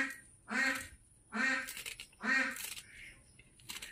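Ducks quacking in three loud, separate bursts of rapid calls, spaced about a second apart and close by, with a faint extra call near the end.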